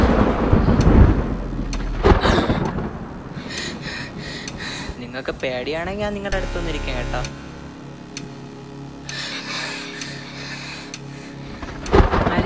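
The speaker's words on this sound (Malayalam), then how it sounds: "ഇവിടെ നല്ല ഇടിമിന്നൽ മഴയൊക്കെയാണ്." Thunder crashes and rumbles through a heavy rainstorm on a night when the power is out and the roads are flooded. Sharp bursts near the start and end sit over a steady wash of rain, with people talking throughout.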